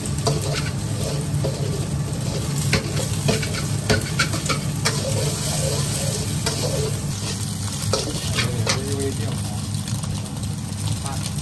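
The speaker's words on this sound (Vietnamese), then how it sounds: "Mình chiên trứng nè, rồi đổ xúc xích vào." Eggs and sausage frying in a pan for Yangzhou fried rice, with steady close sizzling and occasional stirring scrapes throughout, while a low hum runs underneath.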